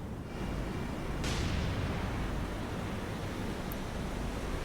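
Naval gunfire in War on the Sea rolls out as a broad, deep boom over a steady roar of sea and wind, with one sharp report at about a second in that fades into a long rumbling tail.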